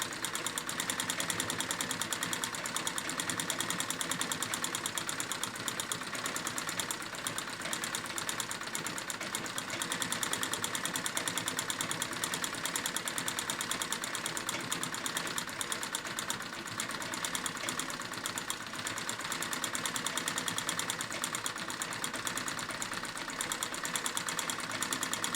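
A Singer 15 treadle sewing machine doing free motion quilting runs steadily and fairly close, giving a continuous mechanical whir with a fast, even rhythm and no talking throughout.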